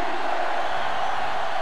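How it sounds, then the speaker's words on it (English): A loud sellout stadium crowd roars steadily in NCAA Football 06 during a Michigan vs Michigan State game, a dense, constant wall of cheering that fills the scene. "This sellout crowd is really making a difference now as these guys can't even call the play"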